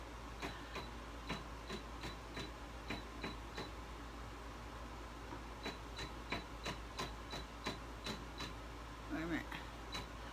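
A household embroidery machine restitching fabric held in a hoop, giving a steady run of regular mechanical ticks and needle clicks over a low motor hum, close and moderately loud, with a brief rustle near the end.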